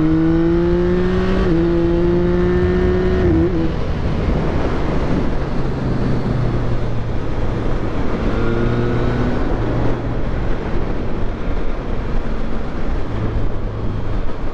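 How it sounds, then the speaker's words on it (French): A Yamaha MT-09 motorcycle engine revs and accelerates loudly, its pitch climbing through gear changes under heavy wind rush, with no talking. "Ici on a une moto qui demande qu'à s'énerver mais qu'on peut contenir quand même"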